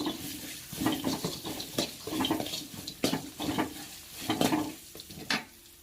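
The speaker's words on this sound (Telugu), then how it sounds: "ముందుగానే వేయించుకున్నటువంటి పల్లీలు కొద్దిసేపు ఇలా ఫ్రై చేయాలి" Pre-roasted peanuts fry in a little oil for lemon pulihora, giving a steady, close hiss broken by repeated scraping stirs and clinks of a spoon against the pan, with no talking.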